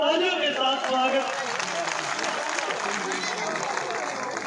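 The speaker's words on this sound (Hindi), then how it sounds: "जोरदार तालियों के साथ स्वागत" A crowd at an outdoor political rally in Ajitpura claps steadily, the applause continuing as a dense wash while an amplified voice speaks over it at the start before fading under the clapping.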